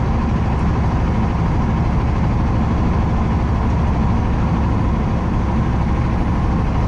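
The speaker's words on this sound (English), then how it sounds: "Engine's spinning a little bit faster so we can make a little bit more power." A heavy haul truck's diesel engine pulls hard in 16th gear near 1500 RPM, a loud, constant low rumble with steady drivetrain drone filling the cab throughout.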